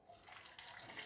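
Hot water pours into a batter of oats and rava for kara idli, a brief steady splashing gush close by.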